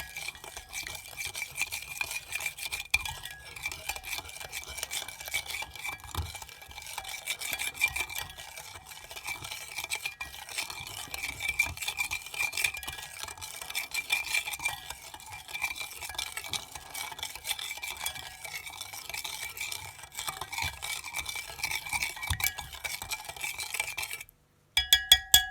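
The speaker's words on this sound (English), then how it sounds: "And about 1/2 tablespoon of hoisin. Now, give that a good mix." Steady scraping and clicking of a utensil stirring minced garlic with hoisin marinade in a bowl, a continuous close rhythmic mixing sound lasting over twenty seconds with no talking.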